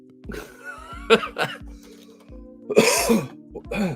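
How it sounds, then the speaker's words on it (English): A person coughs in several short harsh bursts, then a stronger fit of throat-clearing coughs, close and loud, with quiet gaps of room tone between them. "Why did I wake up with this cough?"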